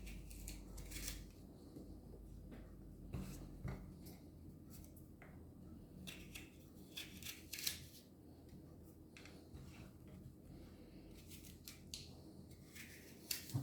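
Knife cutting into apples, coring and quartering them for a streusel apple tart, heard as close, quiet crisp slicing and scraping clicks scattered through a soft kitchen background, with no talking.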